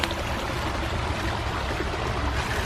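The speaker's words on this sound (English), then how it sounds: "Yeah, it's a little waterfall." A small stream spills over a little waterfall in a natural setting, giving a close, continuous rushing and gurgling wash of water with no voices.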